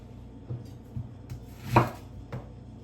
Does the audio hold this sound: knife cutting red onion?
yes